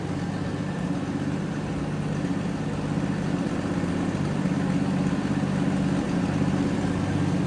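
A 1966 Ford Mustang Coupe engine idles with a steady, low rumbling throb, heard close from behind the car and unchanging, with no voices over it.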